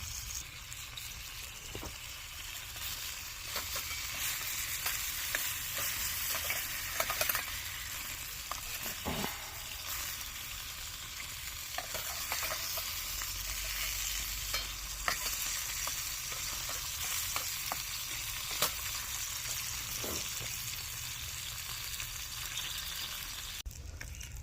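Bacon sizzles steadily in a pan over a firebox, a dense, continuous crackle with occasional sharper pops, heard close with no talking.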